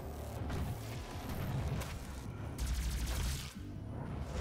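Rocket launcher blasts and heavy gunfire in the Doom video game roll on continuously as dense, booming, rumbling bursts, with no voices.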